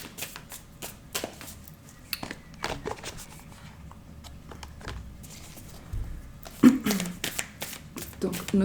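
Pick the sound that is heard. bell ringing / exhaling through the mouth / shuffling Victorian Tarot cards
shuffling Victorian Tarot cards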